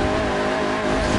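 A car in the Forza Motorsport video game revs hard while drifting sideways, a loud, sustained engine whine mixed with tire squeal and no voices.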